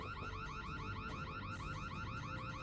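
A loud, repeating electronic alarm sounds in the space strategy game Starsector, a fast warbling tone cycling steadily and without pause.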